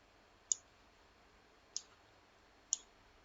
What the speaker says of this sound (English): So click on the table icon here.